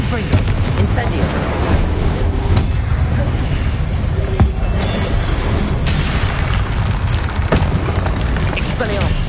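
Confringo and Incendio spell blasts in Hogwarts Legacy, a dense run of booming explosions and fiery bursts over constant rumbling combat noise, loud and close throughout.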